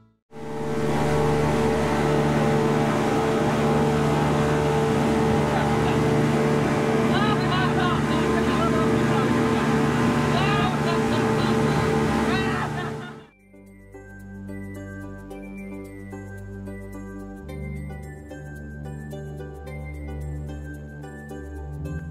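A tour boat returns to the Pattaya ferry pier with a loud, steady engine roar for about thirteen seconds, then it cuts out abruptly, leaving a quieter tonal background.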